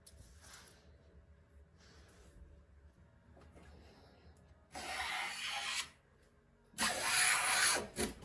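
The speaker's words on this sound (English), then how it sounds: "I'm going to give it a proper sharpen and retest it on the first timber." A cheap block plane, freshly sharpened, is pushed along timber in two loud, rasping strokes of about a second each. Quieter scraping and handling noises come first.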